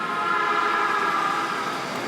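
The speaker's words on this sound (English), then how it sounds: "Train going across." Train crossing in Tokyo on the Yamanote Line, a steady droning hum with a sustained tonal whine throughout, moderately loud and unbroken.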